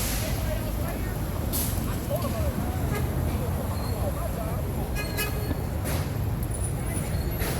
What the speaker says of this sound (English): And I'll just end with these trucks going in here real quick.